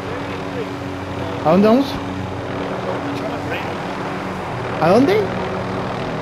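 Helicopter rotors drone steadily through Call of Duty: Modern Warfare gameplay, a continuous engine wash with two brief louder bursts, while a player speaks over it.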